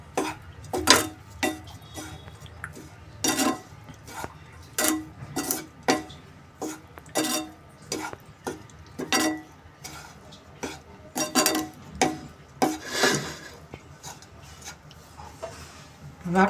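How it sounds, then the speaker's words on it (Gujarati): A spoon repeatedly scrapes and clinks against a bowl while green toor kachori filling is mixed with squeezed lemon, giving an uneven series of close, sharp taps. "આપણે બરોબર મિક્સ કરી દઈશું."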